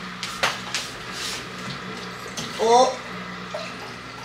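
Filtered bottled water from the gym poured into a jar of pre-workout powder, splashing in short bursts and rising in pitch as it fills, nearby and moderately loud, with a brief exclamation from a voice.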